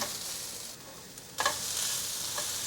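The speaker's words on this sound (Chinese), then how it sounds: "杏鲍菇很快的就拌炒均匀了" King oyster mushrooms stir-fry in a hot pan, giving a steady hiss of sizzling oil broken by scraping stirs and the soft clatter of a spatula.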